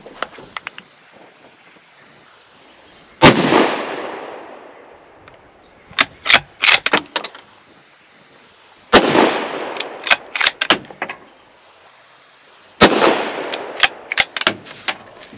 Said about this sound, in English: All the shots hit